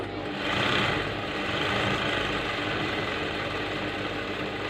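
A sewing machine tacks elastic onto a smock frock with a close, continuous motorized whirr and fast needle clatter that runs steadily for several seconds without speech.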